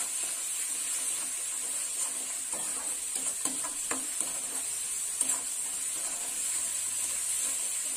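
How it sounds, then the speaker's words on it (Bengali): Spice paste for a Bengali kalia with mustard fries in a pan, giving a steady close sizzle and hiss with scattered stirring scrapes and small pops throughout. "মশলাটা ভাজা হয়ে গেছে।"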